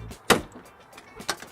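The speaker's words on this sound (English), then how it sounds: "I can simply unlock the door with my hand" Car door unlocking by hand via an RFID implant and reader behind the driver's side window: a sharp click, a short quieter thunk, then a second sharp click, close and alone.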